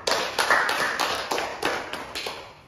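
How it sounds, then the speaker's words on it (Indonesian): A small group in a group activity therapy session claps in a short burst of about a dozen sharp, evenly spaced claps, fairly close and fading slightly toward the end. "beri tepuk tangan untuk Ibu Cynthia."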